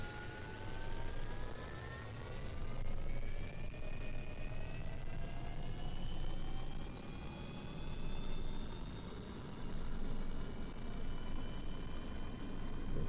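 A rocket engine runs at full throttle in Kerbal Space Program, a sustained loud roaring rumble with a slowly rising whine layered on top, continuous and close for the whole stretch.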